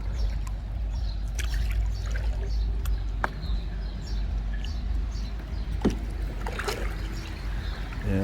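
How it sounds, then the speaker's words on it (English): A Wilderness Systems Ride 115 kayak is paddled one-handed on a lake, with soft water swishes and drips from the blade over a steady low rumble of wind or distant traffic and a few faint birds. "I'm paddling with one hand"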